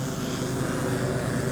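Agricultural spraying drone flying in a field during crop spraying, a steady, loud propeller drone that stays constant and close for the whole moment with no speech.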